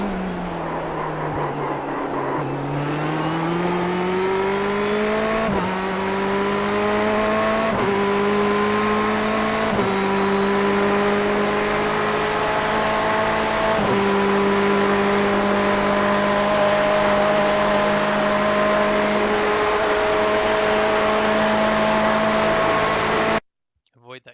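A Ferrari 488 GTE race car engine roars in iRacing at Bathurst's Mount Panorama, climbing in pitch through several quick upshifts, loud and continuous before cutting off abruptly at the end.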